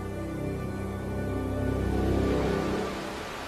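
Steady rain pours across a vast arid landscape as a final bank of clouds arrives, a dense, even hiss that swells slightly in the middle and carries no voices.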